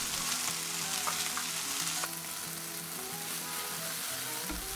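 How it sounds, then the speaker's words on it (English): Browned beef and a finely diced medium onion for steak and kidney pudding sizzle steadily while being tossed in a frying pan, a continuous close crackle with faint stirring, no talking. "Now continue frying and tossing for a couple of minutes until the onions have some colour too."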